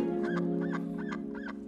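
A duck quacking, four short nasal honks in an even rhythm over a steady droning hum.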